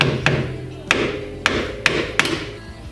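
A hammer strikes a screwdriver to knock loose the bottom adjuster collar on a Gaz Gold coilover fitted to a Ford Sierra Cosworth. Five sharp metallic blows come at uneven intervals, close and loud, with no talk.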